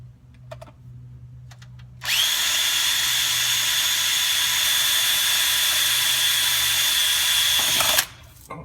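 A power drill bores a pilot hole through airplane sheet metal in one continuous high-pitched whine lasting about six seconds, loud and close, starting abruptly after a few quiet handling sounds and stopping sharply.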